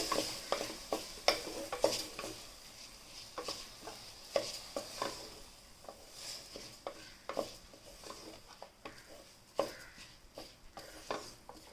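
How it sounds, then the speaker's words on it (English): Washed rice and cabbage frying in a pan, a faint bed of sizzle under a long run of quick, irregular ladle scrapes and taps against the metal. "You just fry with cabbage for 1 or 2 seconds"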